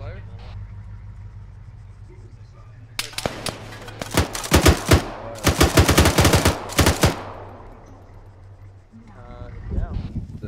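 Rapid bursts of machine gun fire in a military video game crackle loudly over a steady vehicle engine idle, several volleys in quick succession before tapering off to the rumbling engine.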